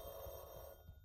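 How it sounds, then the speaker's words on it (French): A telephone rings in The Backrooms video game, a steady electronic ring filling the short moment at moderate loudness and fading near the end, with no talk over it. "le téléphone à gauche, il va sonner, ça fait un gros bruit."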